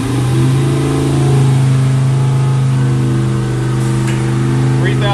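An engine under load in a dyno room makes a loud, steady, harmonic drone that holds nearly constant throughout. A faint clatter rises near the end.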